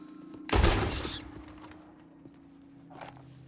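A single sharp, loud gunshot rings out in Red Dead Redemption 2, followed by a decaying echo and a faint softer thump a couple of seconds later.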